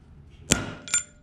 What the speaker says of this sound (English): I would recommend doing some center punches